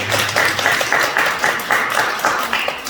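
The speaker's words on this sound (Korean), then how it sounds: "우리 하나님께 영광의 박수 올려드리겠습니다" A church congregation claps together in a sanctuary, a sustained patter of many hands with slight swells and no talk over it.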